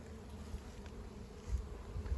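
Honey bees buzz steadily in an open hive with started queen cells on the frames, a low, continuous hum at moderate volume with slight swells and no voices.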